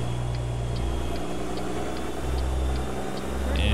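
A truck engine in American Truck Simulator, with a modded sound pack, rumbles steadily at low pitch, with a faint regular ticking on top, and no one speaks.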